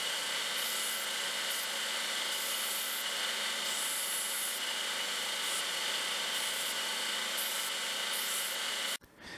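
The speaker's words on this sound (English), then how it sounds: "I put on the 150 grit belt to sand out all the deep scratches" A belt sander with a 150 grit belt whirs steadily while grinding a steel knife blade, a continuous abrasive rasp with a slightly pulsing hiss, close and loud, stopping abruptly near the end.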